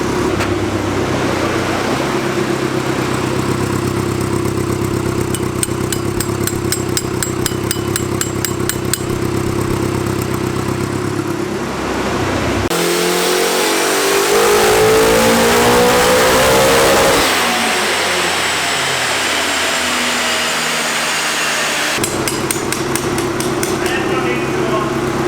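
A quad-turbo Honda Civic engine roars on a dyno, its loud sustained drone climbing in a rising sweep under boost before dropping off and revving again, with people talking over it.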